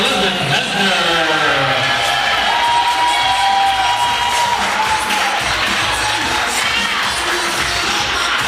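Wedding reception guests cheer, whoop and applaud loudly as the bride's mother and the groom's parents make their entrance together, a sustained dense roar of clapping and shouting.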